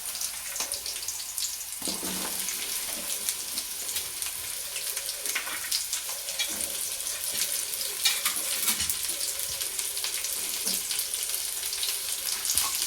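Okra hitting hot oil in a pan with chili, a steady bright sizzle and crackle that runs on for many seconds, with occasional stirring clinks and shifts in intensity.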